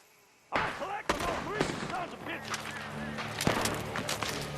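Gunfire from a barn during a Red Dead Redemption 2 shootout: several sharp cracks, some loud and close, others more distant, ring out over a continuous busy game backdrop with tonal ambience, no voices.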